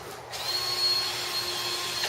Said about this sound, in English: And the drill I get set on low speed